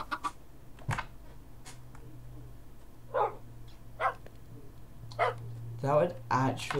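Dogs barking in the video game Minecraft: several short, sharp barks in an irregular rhythm, spread over a low background hum.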